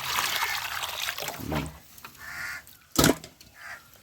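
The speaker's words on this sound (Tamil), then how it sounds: "இப்போ தண்ணி ஊற்றி கழுவி அப்படியே கண்ணு சலையில் போட்டுடலாம்" Water trickles and splashes in short pours close by as fish is rinsed, with a louder splash near the end and faint outdoor background noise.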